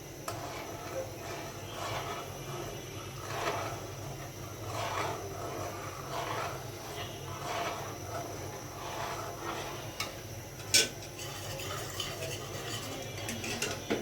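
Spoon scraping and stirring in a pot of sweet vermicelli as cornflour is added bit by bit, a steady soft rhythmic scrape with a faint clink near the end, close and moderately quiet.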